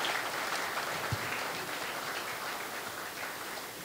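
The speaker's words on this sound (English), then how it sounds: "give them a big round of applause" A church congregation at a children's Sunday worship service at a theology college claps steadily, a soft, distant wash of applause with no talk.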